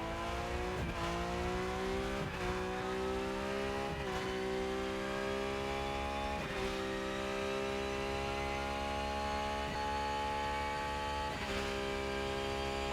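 Porsche race car in the Rennsport racing game, its engine droning loud and steady for the whole stretch, rising in pitch through each gear and dropping sharply at every upshift, roughly five shifts.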